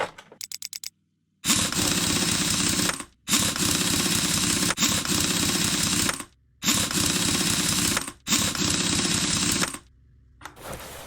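Pneumatic impact wrench bursts while a tyre goes on a wheel in Car Mechanic Simulator 2021. A quick series of short taps opens, then four loud sustained whirring bursts follow, each lasting about one to two seconds, with brief gaps between them.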